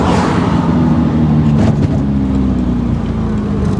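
A 1955 Aston Martin DB2/4 drophead coupe with an engine of about 120 horsepower, heard from on board while driving: a loud, steady engine drone that holds an even pitch, with no talking.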